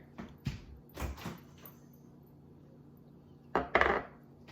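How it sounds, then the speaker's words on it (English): Butter is worked in a mixing bowl, producing scattered knocks and scrapes of utensil against bowl, a few soft taps first, then a louder cluster of clattering hits near the end, close and without talk. "now I'm going to mix the butter"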